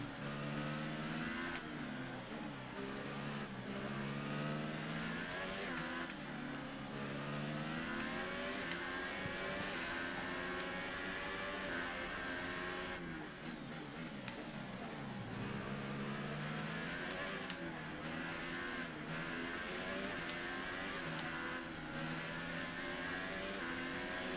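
Formula One race car engines from the F1 2018 racing game scream continuously at high revs, with gear changes and swelling, dipping pitch throughout, loud and unbroken for over twenty seconds.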